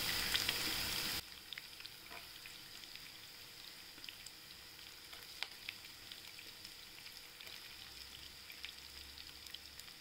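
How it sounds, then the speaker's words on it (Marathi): Potato pieces and chilies frying in hot oil in a home kitchen, a steady soft sizzle with faint crackles that follows a louder burst at the start. "आता आपण बटाटे टाकून घेऊया."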